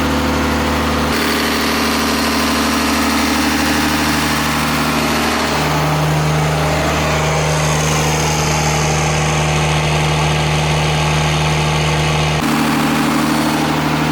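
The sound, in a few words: Cummins diesel engine running in van, burning off manifold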